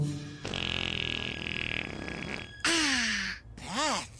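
Cartoon fart sound effect from the animated series Total DramaRama, a long sustained buzzy blast followed by two shorter squeaky, warbling toots, loud and alone without talk.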